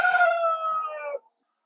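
A single loud rooster crow, harmonic and drawn out for about a second, close by, then silence.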